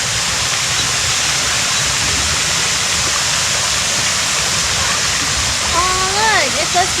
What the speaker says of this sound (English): we can hear the running water